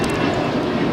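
An airliner at Los Angeles LAX airport gives off a steady, broad engine roar that stays constant and loud throughout, with no voices.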